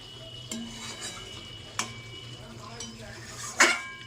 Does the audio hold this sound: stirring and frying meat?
yes